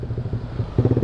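A motorcycle engine hums close by while riding through traffic in Bogor, a brief, steady mid-pitched drone that pulses slightly louder near the end.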